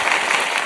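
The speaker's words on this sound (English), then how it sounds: "Can y'all hear my applause?" Canned applause sound effect played during a livestream, a dense, loud burst of clapping and cheering that fills the whole brief moment with no pauses.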